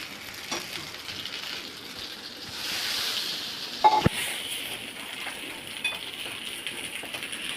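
Garam masala and ground tomato sizzle steadily as they are sautéed in a pan for a homemade arbi bhaji, a soft continuous frying hiss with a sharp metallic clink of the utensil partway through.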